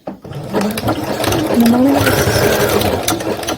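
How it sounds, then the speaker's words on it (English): A sewing machine whirs steadily as it sews a lettuce hem, close and loud, with a rapid mechanical chatter running for a few seconds. "I'm only going to sew like a 1/2 inch."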